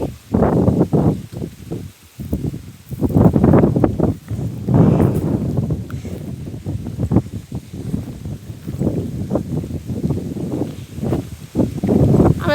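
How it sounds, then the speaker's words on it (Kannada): Strong wind gusts through an organic areca nut plantation, loud rustling surges of leaves and buffeting air rising and falling in waves, close to the microphone with no talking. "ನೋಡಿ, ಎಷ್ಟು ಜೋರು ಗಾಳಿ ಬೀಸ್ತಾ ಇದೆ"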